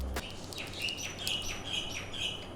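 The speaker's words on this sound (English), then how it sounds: "Shut up, bird." A pet bird chirps indoors in a series of short, bright tweets repeating every half second or so over low background hum, close and moderately clear.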